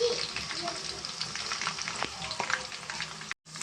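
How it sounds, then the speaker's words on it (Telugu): Tomato, onion and curry leaves frying in hot oil for a fish curry, a dense crackling sizzle with stirring clatter, close and loud, cutting off abruptly near the end. "అది బాగా ఫ్రై అవ్వాలండి కొంచెం పచ్చివాసన పోయేదాకా నేను ఫ్రై చేసుకుంటానండి"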